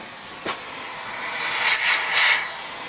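A steady broadband hiss from a vacuum pump pulling vacuum on an air-conditioning line set runs throughout, swelling slightly in places with a brief tap near the start.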